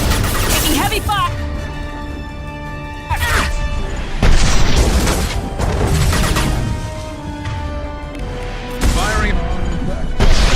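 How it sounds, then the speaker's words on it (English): Heavy gunfire and booming explosions in Mass Effect 2 combat: repeated loud blasts and crashing impacts break over a continuous din of firing, close and intense throughout. "Taking heavy fire."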